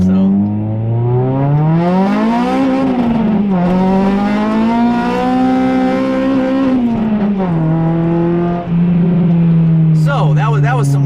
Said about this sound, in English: So that was some wheel spin, because it's wet and snowy.